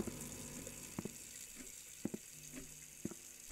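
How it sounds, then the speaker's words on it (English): A bathroom faucet runs with a soft, steady stream of water, faint and fairly distant, with a few sharp knocks. "Who left the faucet on?"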